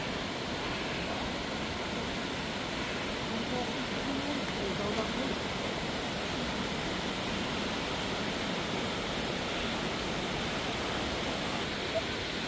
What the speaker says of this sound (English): By far, that is probably the tallest waterfall I have ever seen.